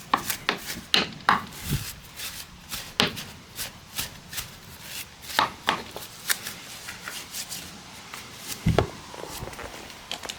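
A stiff brush scrubs dirty, greasy transmission parts from a 2000 Acura Integra LS, with repeated short rasping strokes in an irregular rhythm, close and moderately loud, and no talking.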